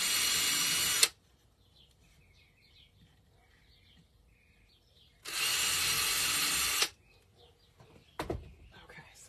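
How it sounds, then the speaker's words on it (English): Two bursts of a power drill boring holes in a homemade wooden sunflower sign, each lasting about a second or two with quiet gaps between, followed by a brief clack near the end. "So we're just going to go ahead and drill a couple holes."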